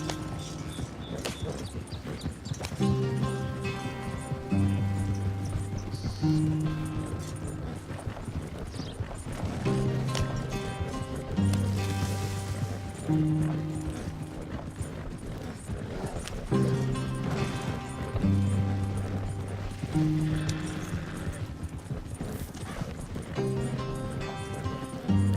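A horse gallops steadily in Red Dead Redemption 2, its hoofbeats a continuous rhythmic clatter. The galloping runs under a game music score with low sustained tones throughout.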